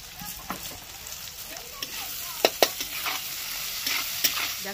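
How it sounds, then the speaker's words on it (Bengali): Winter vegetables with peas fry in a pan for paneer rice, a steady close sizzle broken by scattered scraping and clinking stirs. "দেখো সবকটা না ভাজা হয়ে গেছে"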